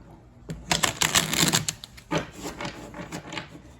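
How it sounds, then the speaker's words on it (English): A deck of Egyptian Tarot cards is shuffled by hand, giving bursts of crisp riffling and card flicks that come in uneven clusters, close up and moderately loud, with no talk. "I'll shuffle a little bit more on camera"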